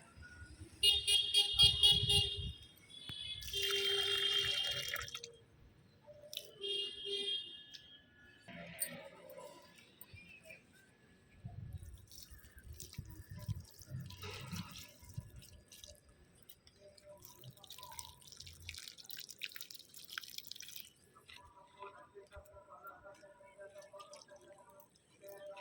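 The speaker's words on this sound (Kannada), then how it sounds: "ನೀರು ಹಾಕ್ತಾಯಿದ್ದೀನಿ." Water being poured onto garden plants gives intermittent drips and splashes, louder in a few bursts, with occasional clicks and faint traffic and a car horn far off.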